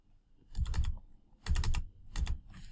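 Bursts of typing on a computer keyboard come in three clusters of rapid key clicks, with short pauses between them, close and fairly quiet.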